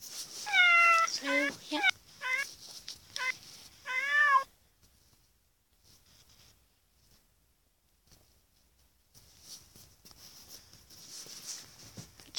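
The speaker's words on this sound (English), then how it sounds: "Her cat." A cat meows repeatedly in a quick series of close, clear cries, then the sound drops to near silence before faint rustling and handling noise returns.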